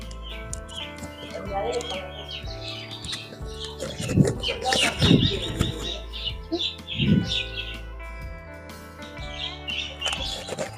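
Pigeons and other birds gathering to be fed at a shrine, scattered chirps and calls heard under someone talking and a steady low background hum, with some handling bumps.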